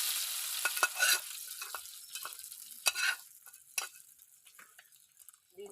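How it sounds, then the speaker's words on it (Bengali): Cumin, garam masala and chili hit hot oil to temper khichuri, giving a steady high crackling sizzle with sharp pops and spatters, loudest early and easing off toward the end, with no voices. "সারা আছে জিরে আছে, গরম মশলা আর লঙ্কা, ফোড়ন দিয়ে দিচ্ছি।"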